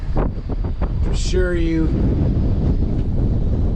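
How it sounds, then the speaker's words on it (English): Strong wind buffets the microphone aboard a 25 ft North River fishing boat, a steady loud broadband roar throughout, with a person speaking briefly over it. "it is really windy here."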